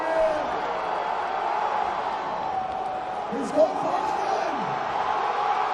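A strongman competition crowd at the 2019 Arnold Classic roars and urges on a lifter's overhead attempt, a broad sustained swell of cheering running underneath a commentator's voice, with one brief sharp spike near the middle.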